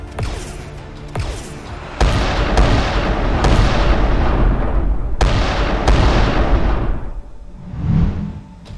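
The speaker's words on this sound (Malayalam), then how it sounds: "അവിടെ കപ്പലിനുള്ളിൽ നിന്നും കൊള്ളക്കാർ വെടിയുതിർത്തുകൊണ്ടേയിരുന്നു." Blasting guns in an animated pirate shootout from inside a ship fire a rapid series of loud sharp reports, each with a booming tail, close and overlapping for several seconds with no talk.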